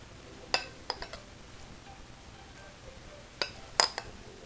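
A casserole dish of one-skillet beef stroganoff with breadcrumb topping goes into a hot oven, giving a few sharp, close clinks and knocks spread over several seconds, with no talking.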